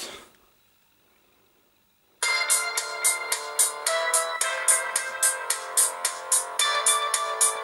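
A ringtone plays loud and close through the loudspeaker of a Cubot GT95 smartphone, a rhythmic run of bright repeating melodic notes that starts abruptly after about two seconds of near silence.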